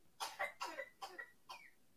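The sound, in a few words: child's little cough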